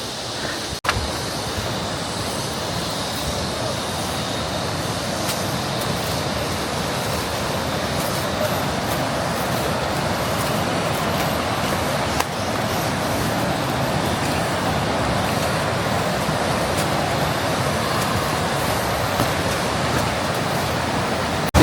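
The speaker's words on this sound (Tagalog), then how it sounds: "Dito tayo sa ilog." Balangikog Falls and its river in Baungon, Bukidnon roar as a steady, loud broadband rush of falling and flowing water, continuous throughout with no talk.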